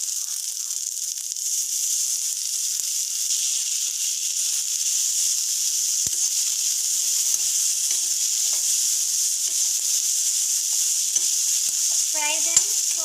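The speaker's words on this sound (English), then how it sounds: "Fry them for 1 minute and you can turn off the stove." Ingredients and grated coconut frying in hot oil for a moringa and banana-stem South Indian lunch, a steady, loud, even hiss of sizzling throughout with faint stirring taps and a brief scrape near the end, no talking.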